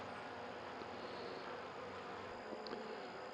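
Honeybees buzz around beehives in autumn, a soft steady drone of many insects with an occasional louder bee passing near, faint and continuous throughout.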